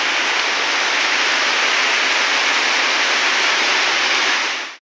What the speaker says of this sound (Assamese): পুৰা বৰষুণ পৰি আছে